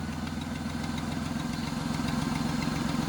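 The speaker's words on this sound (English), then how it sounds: "That's an exhaust gasket. Manifold gasket, yep." Buick engine idling with an exhaust manifold gasket leak, a steady low rumble with a faint rhythmic ticking puff running evenly throughout, close and alone with no voices.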